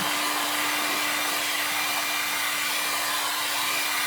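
A heat gun blows steadily to warm a BMW Airhead motorcycle transmission case, a continuous close, even hiss with a faint hum running under it for the whole stretch, no voices.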